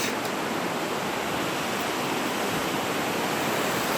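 The Nehalem River flows through Salmonberry River Canyon, a steady broadband rush of moving water heard close and continuous, with no voices.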